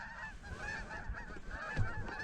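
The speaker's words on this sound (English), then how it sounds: "And you guys hear all those geese?" A flock of geese honking in the distance over a foggy lake, many overlapping calls in a continuous faint chorus.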